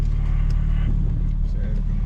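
A 2022 BMW M4 six-speed manual with a single mid pipe, downpipe and front-mount intake hums with a steady, heavy low engine drone heard from inside the cabin, while a voice talks over it.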